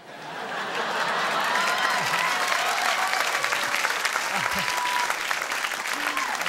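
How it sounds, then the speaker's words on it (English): A late-night talk show studio audience applauds a stand-up comedian, loud sustained clapping that swells in and holds steady, with scattered cheers and laughter and some voices mixed in. "You guys are so generous with the applause, man"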